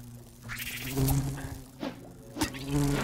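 Wasps buzzing in the survival game Smalland: Survive the Wilds, a droning insect whine that swells and fades as they fly close, with small impact sounds between the buzzes.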